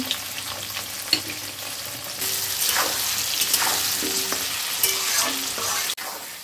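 Potatoes and green chillies frying in oil with a steady, loud sizzle, broken by occasional scraping stirs and a sharp clatter near the end.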